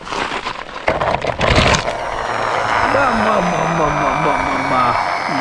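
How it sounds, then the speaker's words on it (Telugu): An ABC Toys heavy mining truck plays its built-in engine sound: a wavering, warbling electronic drone that follows a burst of rattling handling noise. "ఇదిగోండి, దీని లోపల ఉంటుంది ఇంజిన్. సో దానివల్ల ఈ సౌండ్."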